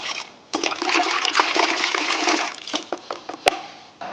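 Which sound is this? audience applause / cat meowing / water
water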